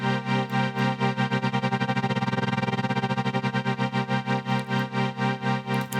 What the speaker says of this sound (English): So nice to see a tremolo in the effects section.